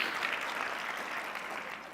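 Steady applause from a crowd at a Port of Long Beach State of the Port event, a dense unbroken wash of clapping at moderate level with no voices standing out.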